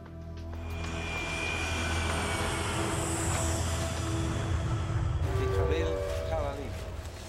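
Airplane engine at an airport, a loud steady drone with tonal whine that holds for about five seconds, then shifts to a rougher, changing roar as other noise enters near the end.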